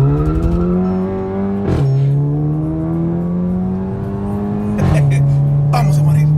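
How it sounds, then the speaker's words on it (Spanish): A drag race car pulls hard from a standstill, its engine note climbing steadily through gears with sharp shifts at intervals, loud and close with a steady droning tone. "Suelta el freno y no dejes de acelerar."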